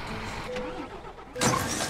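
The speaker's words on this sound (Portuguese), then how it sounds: "o motor tá zoado" A truck engine in Euro Truck Simulator 2 drones with a rough, uneven hum, steady and close for under two seconds, swelling louder near the end.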